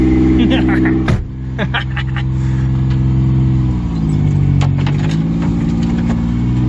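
A Toyota engine revs hard while the vehicle tears up roots on a property, a loud, close, sustained mechanical roar with pitch shifts and some crunching, while people talk over it.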